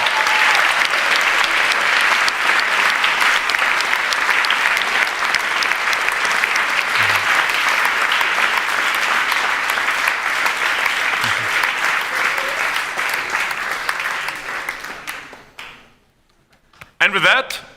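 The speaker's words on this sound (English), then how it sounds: "let's give them a round of applause" Hackathon audience at the HackZurich 2021 closing ceremony claps for volunteers on stage, a long dense wash of applause that fades out near the end, followed by a brief burst of speech.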